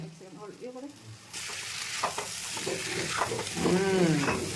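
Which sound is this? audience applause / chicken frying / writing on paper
chicken frying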